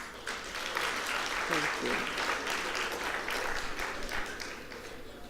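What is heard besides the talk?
applause from convention audience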